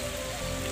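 Heavy monsoon rain pours down in a steady, dense hiss of drops hitting surfaces, loud and continuous from start to finish with no voices.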